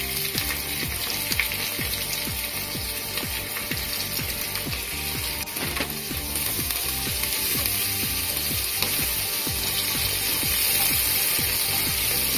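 Chopped onion hitting hot oil with fried garlic, a dense continuous sizzle and crackle holding steady and close, with no talking.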